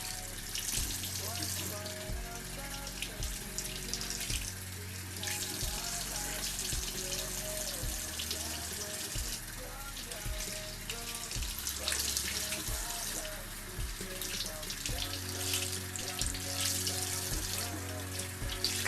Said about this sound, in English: Let me rinse this off my hand.